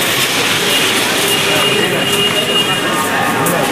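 The 12857 Tamralipta Express stands at Howrah station, with a loud, steady rail rumble and station noise filling the whole stretch and voices mixed faintly into the din.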